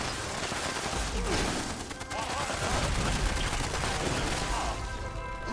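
Loud, dense rapid-fire gunfire from Fallout 76 runs almost without a break, with a voice talking over the shooting.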